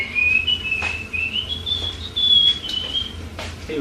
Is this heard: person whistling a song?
yes